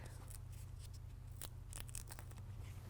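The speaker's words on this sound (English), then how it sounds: "Essentially what we do is you just kind of peel it back" An adhesive seal for a Gator SR1 roll-up tonneau cover on a Ram 1500 is peeled from its backing, giving faint crackly tearing and rustling bursts over a low steady hum.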